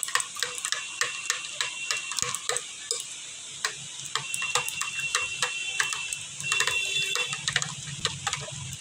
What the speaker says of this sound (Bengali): এবারে আমি এটা মিক্স করে নেব।